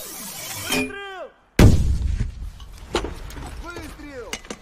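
Raised voices shout, a brief hush falls, then one loud, sharp gunshot cracks nearby and rumbles away before more shouting follows.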